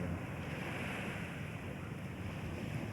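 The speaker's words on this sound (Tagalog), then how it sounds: "lalaki ng alon eh" Sea waves washing on the shore, a steady broad roar of surf mixed with wind buffeting the microphone, continuous and fairly faint.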